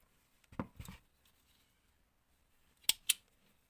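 Scissors cutting crochet yarn during small amigurumi work, two close, quiet snips separated by silence, the second a sharp double click of the blades.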